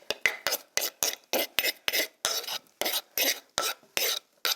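Onion for a halal pinchos morunos marinade is scraped and stirred in a pan in a quick, regular rhythm of close rasping strokes, about a dozen in a row with short gaps, loud and with no talking.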